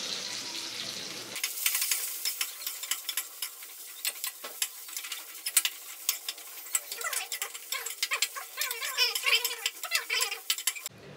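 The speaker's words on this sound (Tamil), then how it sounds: "எண்ணெய் காஞ்சிச்சு, நம்ம வெட்டி வச்ச வெண்டைக்காயை வந்து நம்ம இதில் போட்டு நல்லா ரோஸ்ட் பண்ணிக்கலாம்." Okra pieces hit hot oil for a tamarind curry, setting off a sudden, steady sizzle with frequent scraping and stirring clicks that continue close and loud until the end.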